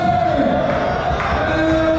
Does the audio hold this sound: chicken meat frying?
no